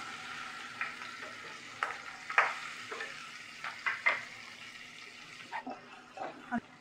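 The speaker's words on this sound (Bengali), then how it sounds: "এবার এই তেলেতেই আমি চিংড়ি মাছগুলোকে নুন হলুদ মাখিয়ে নিয়েছি," Prawns rubbed with salt and turmeric frying in oil, a soft continuous sizzle broken by occasional light clinks and stirring scrapes, fairly quiet and close.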